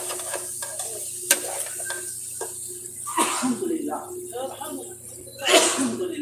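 Chicken dinuguan being stirred in a cooking pan, with scraping and wet stirring bursts over a low sizzle, close by, while a person talks over it.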